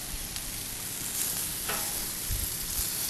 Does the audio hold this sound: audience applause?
no